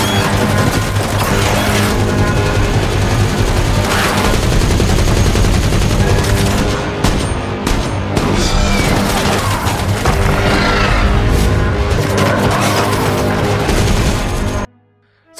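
Sustained machine gun fire in a film, loud dense bursts of rapid shots with booming impacts and crashes, continuing almost without pause before cutting off abruptly.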